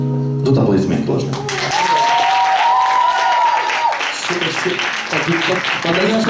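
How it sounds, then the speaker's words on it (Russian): Audience applause at an Easter home concert by a band in Kiev, a steady close wash of clapping that runs the whole time, with a singing or tonal voice rising over it in the middle. "Тут аплодисменты тоже."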